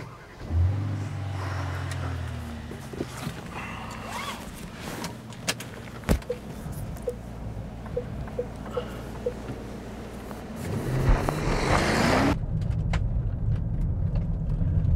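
An Aston Martin DBX SUV being driven, a steady close cabin engine drone with small clicks and knocks, swelling into a louder, fuller road rush near the end.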